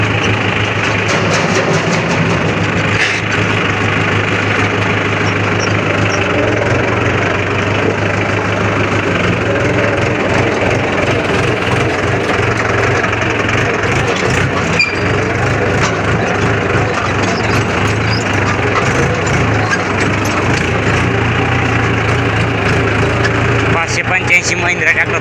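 A Mahindra tractor engine fitted with a new exhaust pipe runs steadily and loudly throughout, with a deep continuous rumble and knocking vibration, while voices talk over it.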